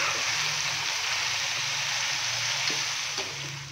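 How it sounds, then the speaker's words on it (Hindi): Mutton frying with crushed chilli for pulao, giving a dense, continuous, loud sizzle close by, with a couple of faint utensil taps near the end and no talking. "अच्छे से हम इसको मिक्स करेंगे और 5 से 7 मिनट के लिए मटन की भुनाई कर लेंगे।"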